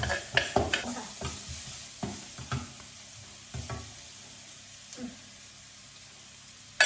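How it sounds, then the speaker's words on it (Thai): Garlic sizzles in a frying pan as it is stirred, with a soft steady frying hiss broken by a series of sharp scraping knocks from the utensil, close and fairly quiet, with no talking. "กระเทียมค่ะทุกคน ใส่ลงไปเลย"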